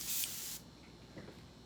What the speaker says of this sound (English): if you just want to get your reducer sprayed through, do a little spray like that right there